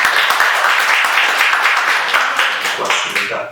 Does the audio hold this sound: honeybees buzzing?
no